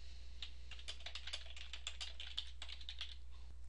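Someone types a recipe name on a computer keyboard in a quick, irregular run of light clicks, close and clear over a low steady hum, with no talk.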